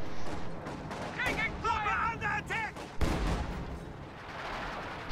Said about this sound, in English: RedxWings is going to barrage the retreat path of those Oversoldaten and hope for a lottery win